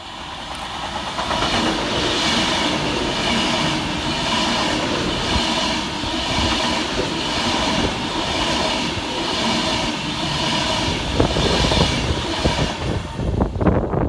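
Avanti West Coast Class 390 Pendolino train running fast through a suburban station on a wet, rainy day, a loud steady roar of wheels and rushing air sustained throughout, with rail clatter rising near the end.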